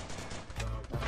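A gunshot from a shooting video game cracks out about midway, a short burst followed by another blast near the end, over steady game background noise.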